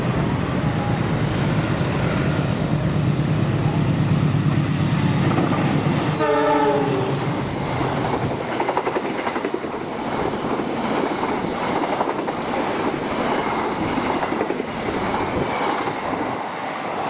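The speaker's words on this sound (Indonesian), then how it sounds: "Untungnya masinisnya mau klakson dulu, jadinya bisa siap pas mau rekam kereta lewat di tikungan Kelari." Passenger train on a curve near Klari station in Indonesia: a steady rumble of rolling wheels, then a loud horn blast partway through, followed by the continuing clatter of cars passing close by.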